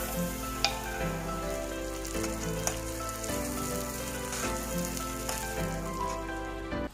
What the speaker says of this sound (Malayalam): നമ്മുടെ തക്കാളി പേസ്റ്റും വൈറ്റ് സോസും കൂടെ മിക്സ് ആയത് ഇതിലേക്ക് ഒഴിച്ച് കൊടുത്തിട്ട് നന്നായിട്ട് ഇളക്കി കൊടുക്കുക